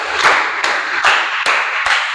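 A classroom of pupils claps a rhythm pattern in unison, five sharp, evenly spaced group claps ringing out close and loud with no talk.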